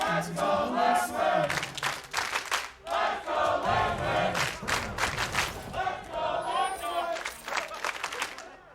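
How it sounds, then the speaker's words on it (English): A one-sided crowd at a League of Legends LCS esports match between CLG and Team Liquid, loudly chanting in rhythmic bursts with cheering and clapping, close and continuous throughout. "the crowd is one-sided in their approach"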